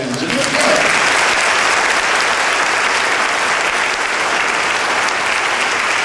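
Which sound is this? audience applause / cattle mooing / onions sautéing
audience applause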